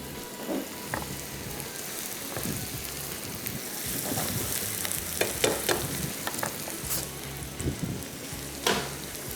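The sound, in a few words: chicken frying and being stirred with green masala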